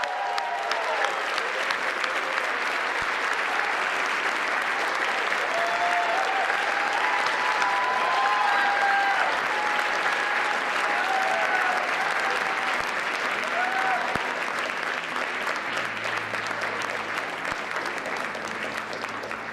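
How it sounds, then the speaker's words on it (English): Sustained applause from the audience at the White House Correspondents' Dinner as a Wall Street Journal reporter is honoured with an award, a dense, steady roar of clapping lasting throughout, with a few voices faintly mixed in. "let's give him a big round of applause"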